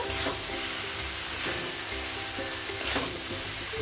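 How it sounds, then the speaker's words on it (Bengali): Boiled noodles being stir-fried in a pan, a steady sizzle with repeated scraping and tossing strokes of a spatula at regular intervals, close and alone with no voices. "এখন সেদ্ধ করা নুডলসটা অ্যাড করে দিলাম, দিয়ে ভালো করে এইটার মধ্যে মিক্স করব"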